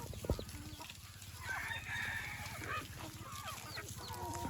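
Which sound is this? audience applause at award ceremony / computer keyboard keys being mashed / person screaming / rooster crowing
rooster crowing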